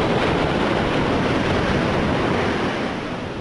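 Ocean waves surge and break on a Pompano Beach shore at high tide during Hurricane Sandy, a loud, continuous roaring wash of surf with wind buffeting the microphone, easing slightly near the end.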